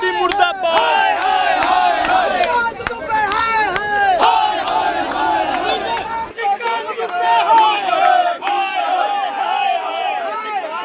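A loud, close crowd of protesters shouting slogans in unison at a street demonstration against Nishikant Dubey, voices rising and falling in repeated chanted bursts that continue throughout.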